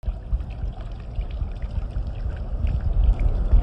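Water from a pool fountain set to weak flow pours and splashes steadily, a soft continuous trickling rush with no voices.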